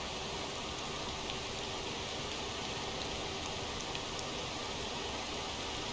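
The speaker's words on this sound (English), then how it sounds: "The rain's certainly not going to help in the corners of this bridge either." Rain in the Motor Town driving game hisses as a steady, even wash of broadband noise with faint drop ticks, continuous and unbroken throughout.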